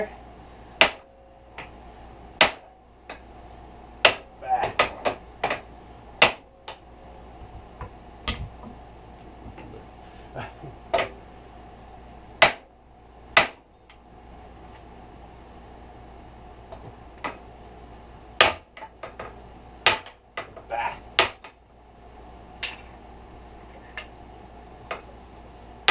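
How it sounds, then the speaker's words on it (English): Two heavy hammers strike a Honda Foreman ATV steering knuckle during a wheel bearing repair, sharp metallic blows landing in irregular bursts and single hits, some in quick clusters, loud and close over a quiet workshop background. "Take your two big hammers."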